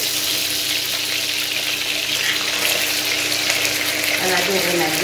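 Meat browning in a pan for a ragout, a loud continuous close sizzle and crackle that holds steady throughout with no talking.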